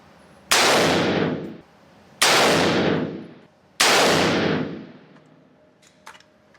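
Three loud handgun shots are fired at a target on a shooting range, about one and a half seconds apart, each a sharp crack followed by a long, ringing decay. There is no talk.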